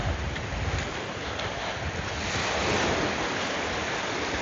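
Sea waves wash steadily onto Tsilivi beach on Zante, a continuous broad rush of surf with wind buffeting the microphone, loud and unbroken throughout.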